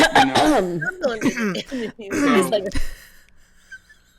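A voice imitates throat clearing with a few rough, gravelly bursts between vocal sounds, ending in a quiet pause.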